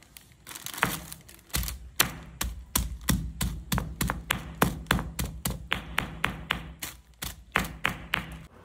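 A pestle pounding turmeric inside a plastic bag, a long run of sharp, close thuds struck at a fairly steady rhythm of about two per second, with faint crinkles between blows and no talking.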